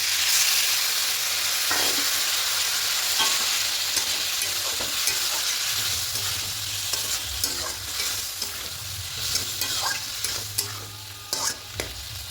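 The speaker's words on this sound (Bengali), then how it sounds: "এবার সব কিছু আরও ভালো করে একটু কষিয়ে নেব" Cauliflower curry masala with yogurt and water being sautéed in a pan, a steady bubbling sizzle under repeated spoon scrapes and stirring knocks, close and continuous with no talk.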